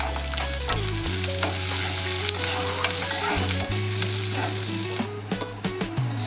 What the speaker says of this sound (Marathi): आता बारीक चिरलेला कांदा आणि हिरवी मिरची घालून छान परतून घेऊ